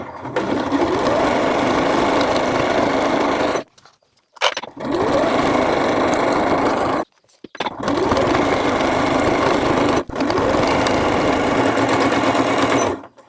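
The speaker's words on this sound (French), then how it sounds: "c'est parti pour la dernière piqûre" A sewing machine stitches the last seam of a baby's beach poncho in four long steady bursts, loud and close, separated by short pauses.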